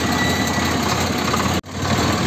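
A tractor engine runs steadily at a low rumble while the tractor puddles a wet field. The close, even drone holds for the whole stretch, with one very brief dropout near the end.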